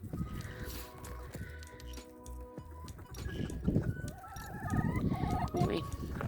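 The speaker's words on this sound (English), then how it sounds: "Anyway, I'll feed these chickens." Chickens being fed outdoors on a farm cluck in a busy, overlapping chorus, fairly close and steady throughout, with scattered bird calls rising in the second half.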